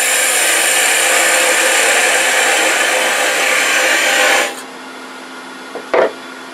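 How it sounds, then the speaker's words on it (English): A parting tool cuts into a turned wooden acorn box on a lathe, giving a steady, loud, close scraping hiss that runs unbroken and then stops abruptly, leaving quiet lathe hum and a brief knock. "Take that parting tool, take another quarter inch,"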